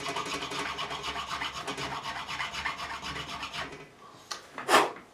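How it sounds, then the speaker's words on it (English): A fine file rasps a string slot into the nut of a 1976 Fender Stratocaster with a steady, close scraping rhythm of back-and-forth strokes. The filing stops near the end, followed by a couple of sharper taps. "I'm now going to carve it into this nut"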